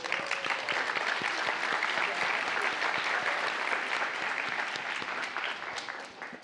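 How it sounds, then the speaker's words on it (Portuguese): Audience applause during a Father's Day church sermon, a steady dense wash of clapping that holds loud for about six seconds before easing slightly at the end, with no speech over it. "dê uma salva de palmas para ele"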